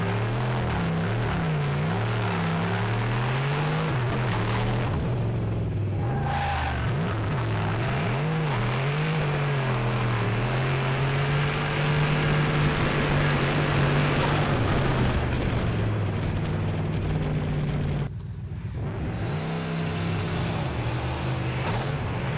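A turbocharged 1UZ V8 car drifts on ice, its engine droning loud and steady with pitch sweeps as revs rise and fall, punctuated by brief drops and surges.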